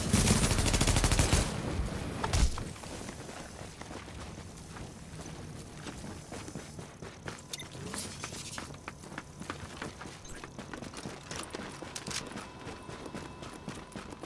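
Gunfire in an online shooter game crackles in a dense burst at the start, then scattered sharp shots and mechanical clatter continue at lower level throughout.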